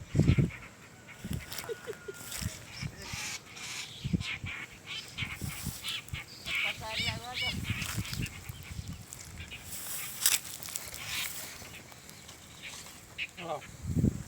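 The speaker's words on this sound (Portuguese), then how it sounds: "Ataque dos pássaros." Birds attacking in Araçatuba, with loud honking, squawking calls and bursts of flapping, close and agitated, interspersed among scattered voices.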